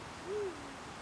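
A single deep, soft eagle owl hoot rises and fades in the middle of a quiet coastal background, low-pitched and resonant.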